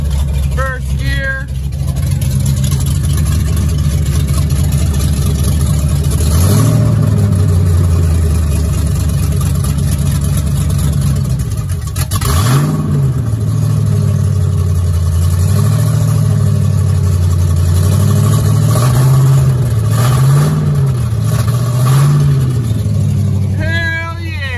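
A Ford Mustang 5.0 V8 fitted with a manual gearbox in place of its automatic idles and then revs in first gear, with a loud continuous engine drone that rises and falls through several throttle blips.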